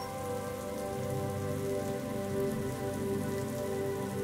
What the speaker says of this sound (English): the calming, warm rain